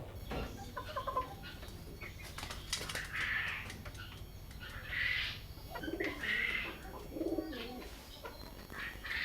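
Domestic and foreign pigeons at a pigeon farm in Bakshiganj, Jamalpur give repeated soft, rolling coos nearby, with scattered rustling and clattering between calls and no speech.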